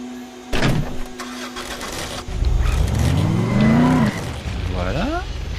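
Car in the zombie video game Dead Island starting up and accelerating, engine revving up through rising tones with a pitch drop between gears, loud and close, with some clatter and background noise.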